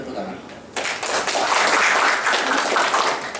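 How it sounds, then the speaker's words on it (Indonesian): A crowd at a university press conference bursts into sustained applause that starts abruptly and holds loud and dense for several seconds, after a brief stretch of speech. "Itu kita kasih tepuk tangan"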